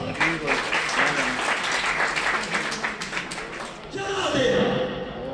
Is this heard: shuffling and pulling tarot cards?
no